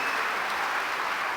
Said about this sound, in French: On peut encore l'applaudir très fort,